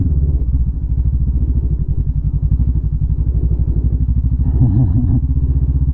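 A heavily loaded motorcycle labors steadily up a mountain highway in the Philippines, its engine a close, continuous low rumble with a slight clatter and no breaks.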